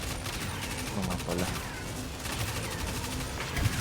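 Rapid gunfire from a Destiny 2 dungeon fight on Mars, dense bursts of shots and crackling effects running throughout beneath a player's brief spoken remark.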